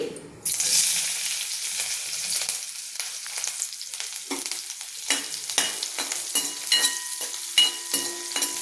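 Green chilies fry in hot oil in a pan for Diwali poha chivda, a steady loud sizzle broken by repeated stirring scrapes and clinks, with no voice over it.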